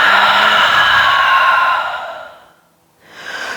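A long, deep exhalation during a yoga flow, held in downward dog, breathed steadily and close for nearly two seconds before fading to near silence, then a fresh breath begins.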